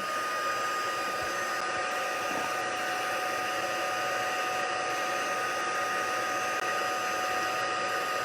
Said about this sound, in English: now I'm ready to melt the embossing powder with my heat tool